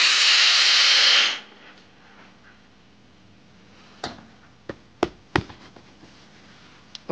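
A steam iron pressing a cotton patch onto jeans gives a loud, broad hiss of steam for just over a second, then cuts off, leaving quiet room tone broken by a few sharp taps and knocks.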